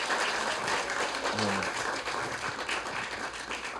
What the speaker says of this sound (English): Could we please give it up one more time for the storytellers?